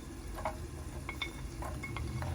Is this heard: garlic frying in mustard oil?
yes